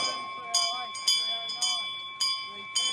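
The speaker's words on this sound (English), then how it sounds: "So they hit the bell." A hand bell signals the last lap of a mile race at an athletics club meet, struck about five times at roughly half-second intervals, each ring bright and clear over a steady background hum.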